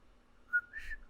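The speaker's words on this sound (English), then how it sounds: "we heard the whistling" A faint human whistle sounds in a quiet room, one short high note followed by a slightly longer rising tone, lasting about a second.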